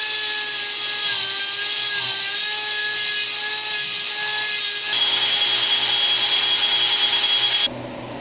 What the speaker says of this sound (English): then hit it with the hone again